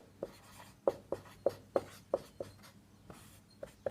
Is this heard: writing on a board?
yes